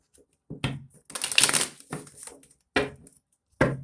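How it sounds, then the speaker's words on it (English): Tarot cards being shuffled up close in several short bursts, with a longer riffle in the middle and brief pauses between. "One more shuffle, Aquarius."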